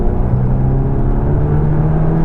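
A 2023 Volkswagen T-Roc R in sport mode gives a loud, close, steady engine drone with a rising tone as it accelerates, heard alone without talk.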